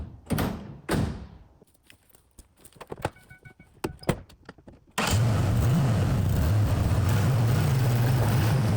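Truck with chains on its wheels and logs loaded in the back for weight, attempting to drag a felled log: scattered clunks and thuds at first, then an engine suddenly revving hard into a loud, steady strained drone.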